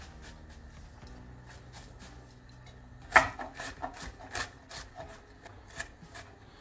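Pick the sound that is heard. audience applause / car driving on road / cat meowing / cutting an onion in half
cutting an onion in half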